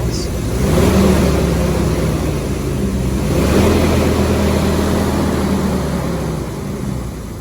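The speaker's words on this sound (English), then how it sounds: "Rev the engine up, see how it sounds." A used Jeep's engine revs up twice, rising then settling into a steady idle, close and fairly loud, with no voices.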